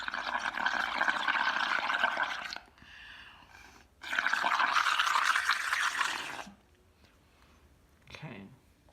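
Breath is blown through a straw into re-inker liquid, making two long, steady bubbling gurgles up close, each lasting a couple of seconds, separated by brief quieter pauses and followed by a short final burble.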